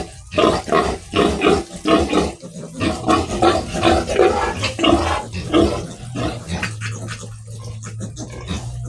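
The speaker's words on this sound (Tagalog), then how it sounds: "Nahuli ko ang biik." Piglets squeal loudly and continuously in a dense, shrill chorus as they run loose, with grunting squeals packed close together and no pauses.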